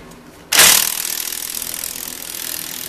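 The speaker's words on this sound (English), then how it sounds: "So 18mm combination wrench on one side, and a ratchet or whatever you got on the other side. Take those 2 bolts out," A single sharp mechanical burst from a ratchet loosening 18mm bolts on an alternator mount of a 2001–07 Ford Escape, Mercury Mariner or Mazda Tribute, followed by a lingering high hiss, close and alone.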